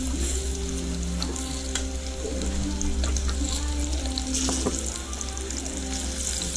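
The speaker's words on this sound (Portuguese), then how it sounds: "assando de banana." Banana slices frying in a home kitchen pan, giving a steady, loud sizzle with stirring clinks and scrapes throughout, plus a low constant hum underneath; no talking.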